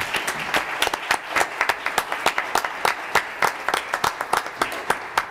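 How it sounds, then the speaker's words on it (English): Applause from the audience at an Aiken city council meeting: a fairly small group clapping at an uneven, moderate pace, the individual claps distinct and close, with no talking over it. "we might give her a nice hand and a round of applause for being here"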